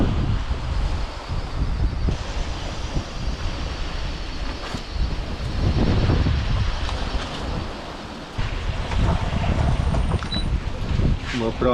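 Strong wind of about 21 knots rushing over a sailing yacht heading for the Red Sea, a loud, constant roar with gusty swells and the rush of water, no talk.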